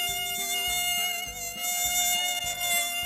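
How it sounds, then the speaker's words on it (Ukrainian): Mosquitoes whining in a forest glade, a steady high-pitched buzzing drone over a repeating low pulsing rhythm, close and fairly loud with no speech. "І комарики пищать."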